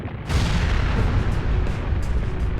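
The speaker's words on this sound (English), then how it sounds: "An explosion?" A loud explosion aboard Shido's yacht in Persona 5 Royal bursts in suddenly, then a dense, deep rumble rolls on steadily for a couple of seconds.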